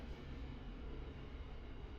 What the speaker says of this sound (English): Excuse the train that's like literally just going past my house.